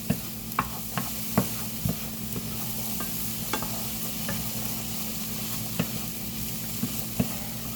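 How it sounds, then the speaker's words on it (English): Minced garlic cloves sizzle steadily in a hot pan while being stirred, a constant frying hiss broken by periodic scrapes and clicks of the utensil, close and without speech. "I'll go ahead and stir that in and cook it for just about a minute or so, just until you start smelling it"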